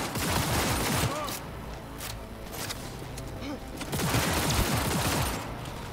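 Sniper fire and other gunshots ring out in the video game Cyberpunk 2077 as repeated sharp cracks and bursts over a busy background, with occasional voice sounds mixed in.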